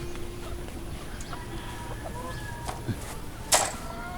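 A young gamecock stag, about four months old, clucking softly in short scattered calls over background noise, with one sharper louder cluck near the end.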